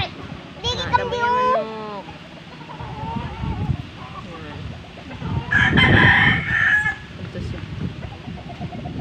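A rooster crows loudly several times, with hens clucking around it and people chatting nearby.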